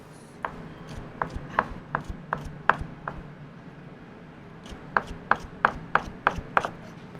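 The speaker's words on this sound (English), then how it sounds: "You want to just make sure you're chopping them so you can just get that aromatic." Knife chopping on a cutting board in two bursts of quick, sharp taps, an irregular run of about seven strokes, then a brief pause and another run.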